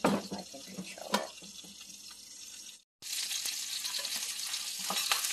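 Sea pepper sautéing in a pan, a close bright sizzle and hiss with a few clinks of stirring, briefly cut to silence before the frying resumes louder, with occasional soft speech underneath.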